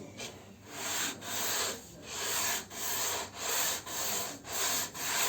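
Rhythmic back-and-forth sanding of a dense, non-fibrous tonewood for a fretless classical guitar, about seven steady abrasive strokes close up, alone with no talk.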